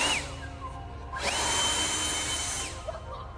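A leaf blower in a video game lets out a loud, steady whirring roar that winds down, surges back up in pitch and then tapers off again, with no talk over it.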